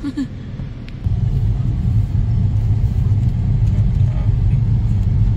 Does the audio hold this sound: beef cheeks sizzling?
no